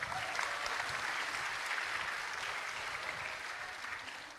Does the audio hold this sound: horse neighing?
no